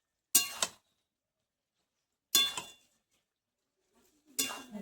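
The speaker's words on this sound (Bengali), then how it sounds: "এবার আমি কর্নফ্লাওয়ার গুলাটা দিয়ে দেবো, দিয়ে নেড়ে চেড়ে নেব" Cornflour slurry is stirred into soybean curry gravy in a pan, producing three separate bursts of a metal spoon scraping and clinking against the pan. Each burst is close and short, with silence between them.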